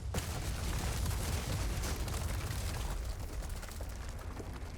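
A loud, sustained blast from an explosion in the video game Resident Evil 4 Remake, a dense rumbling roar with crackling debris that holds steady for several seconds with no talk over it.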